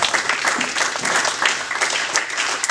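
A church congregation bursts into sustained applause to acclaim God, a dense wash of many hands clapping at once, loud and continuous throughout.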